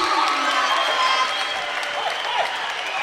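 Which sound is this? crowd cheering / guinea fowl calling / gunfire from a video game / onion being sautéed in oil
crowd cheering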